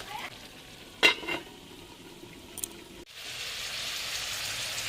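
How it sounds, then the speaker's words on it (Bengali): Mutton frying and being stirred in a pan, a steady close sizzle with a couple of sharp stirring scrapes before the frying swells louder and fills the last couple of seconds. "মাংসটাকে ভালো করে কষিয়ে নেব ঢাকা চাপা দিয়ে দিয়ে এটাকে কষাতে দেবো"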